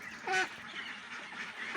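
Pekin ducks on a duck farm give a quick nasal quack or honk followed by faint murmuring calls, brief and at moderate distance.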